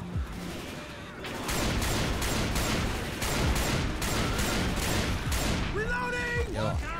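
Auto shotgun fire in a video game: a rapid run of loud repeated blasts in even bursts, close and punchy, fading into a few softer mechanical clicks and tones at the end.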